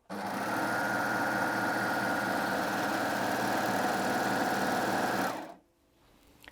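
Baby Lock Aspire coverlock machine running a seam on light fabric, a loud, close, continuous high-speed whir lasting about five seconds before stopping abruptly into quiet.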